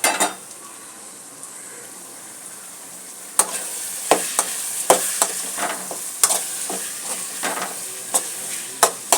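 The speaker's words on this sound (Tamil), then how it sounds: "நல்லா வெங்காயம், இஞ்சி, பூண்டு இந்த அளவுக்கு வதங்கணும்." Onion, ginger and garlic sautéing in a pan: a soft, steady sizzle with a run of sharp spatula scrapes and taps against the metal from a few seconds in, close and fairly loud, no voices.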